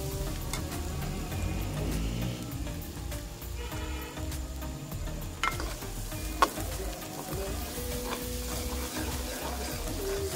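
Chicken masala with ginger-garlic paste being stirred and fried in a pan, a steady soft sizzle with scraping spoon strokes and a couple of sharp clinks, fairly quiet and close, no talking.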